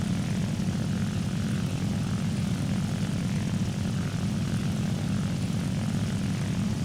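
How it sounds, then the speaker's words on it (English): A propeller plane engine in War Thunder, with the game's engine volume turned down, drones steadily, a continuous low roar with a dense buzzing tone that holds constant throughout, no voices present. "the engine sound is turned down"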